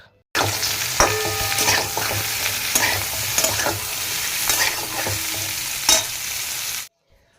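Potatoes for an aloo fulkopi curry fry in a pan with a loud, continuous sizzle, broken by repeated clinks and scrapes of stirring, before cutting off abruptly.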